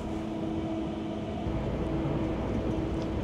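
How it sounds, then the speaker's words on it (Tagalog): A train pulls away and rolls along, heard from inside the carriage as a steady low rumble with a faint tonal hum, fairly quiet and with no talk. "kakaandar lang ng tren."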